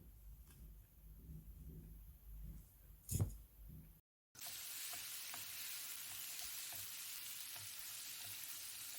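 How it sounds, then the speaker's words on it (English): Chopped tomato cooks in a pan for a green chutney, a soft steady sizzle with a brief stirring scrape, a short gap, then a brighter, louder frying hiss continuing evenly. "Now add chopped one big tomato, chop it and add it. Let it cook till it's a little mushy."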